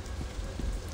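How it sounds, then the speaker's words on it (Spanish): Rain pours in the Sleeping Dogs video game, a soft steady hiss of falling drops with faint low rumble underneath, quiet and continuous without any voices. "Se pone a llover que te cagas."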